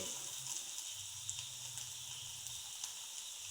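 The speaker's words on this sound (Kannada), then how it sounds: "ಕೃಷ್ಣಿಕೇಗೌಡ ಅವರು ಪನ್ನೀರನ್ನು ಕಾಯಿಸ್ತಾ ಇದ್ದಾರೆ" Paneer heating in a pan on a home stove gives off a steady, quiet sizzle and crackle of frying, with small pops scattered across it and no voices.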